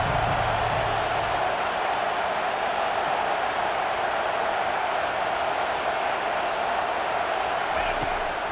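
Stadium crowd in the EA Sports College Football 25 video game, a dense, continuous roar of cheering that holds steady at full level for the whole stretch.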